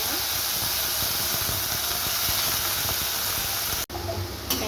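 Small cut potatoes hitting hot oil with mustard seeds, a loud, steady frying hiss that fills the whole stretch, briefly broken near the end before resuming, with no talking over it.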